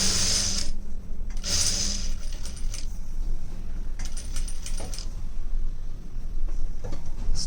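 A sewing machine stitching fabric whirs in steady mechanical runs with bright rattling bursts near the start and fainter ticking later, close and fairly loud with no voices.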